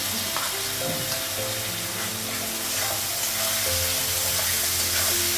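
Spice paste of ginger-garlic, tomato, cumin and chili powder frying in a pan, a constant loud sizzle with stirring, tonal household hum in the background.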